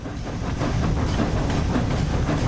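Flying Scotsman steam locomotive in Train Sim World 4 creeping slowly through a 25 zone, a steady loud rumbling chuff with faint rhythmic beats and hissy steam texture, heard alone.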